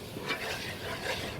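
Flour is stirred into melted butter with thyme in a pan while making tuna noodle casserole, giving soft scraping swishes with a faint sizzle, close and continuous, with a couple of stronger strokes.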